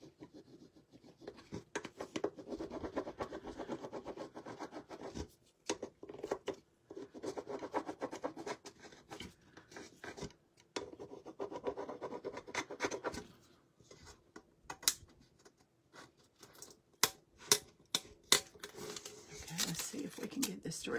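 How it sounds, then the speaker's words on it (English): A transfer rubbed onto a vintage cake cover, with repeated close scratchy rubbing strokes in bursts, a few sharp taps, and a person talking throughout. "I'm just rubbing, rubbing, rubbing till it releases."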